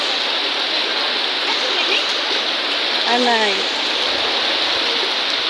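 Floodwater rushes loudly in a river by a bridge during a typhoon in Samar, Philippines, a steady, close roar that lasts throughout, with people talking over it.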